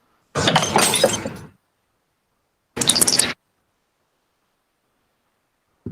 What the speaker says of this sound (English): She reaches for the lights, knocks over the glass,